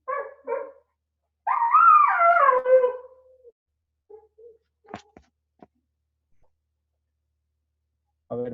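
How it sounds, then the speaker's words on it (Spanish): A small dog yelps twice, then lets out a long, wavering whine-howl, followed by a few faint whimpers and scattered clicks and knocks, ending with another short yelp; loud and close, with no speech. "deje amarro a este perrito chillón"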